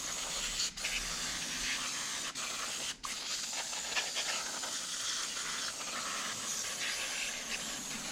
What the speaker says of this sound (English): spray it and watch all the gross bits dribble down